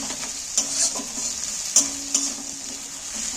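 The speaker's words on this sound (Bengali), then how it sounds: "রসুনটা ভাজা হয়ে গেছে গন্ধ উঠে গেছে" Garlic sizzles steadily in a hot pan while being stirred for chicken mince, with soft scraping clicks of the spoon against the pan over a continuous hiss.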